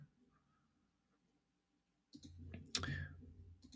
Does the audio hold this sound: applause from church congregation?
no